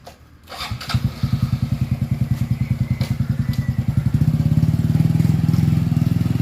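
A motorcycle fitted with a newly installed exhaust pipe starts up and runs close by, its loud, steady rapid exhaust pulses rising slightly in pitch and level partway through as the engine is revved, with no talk.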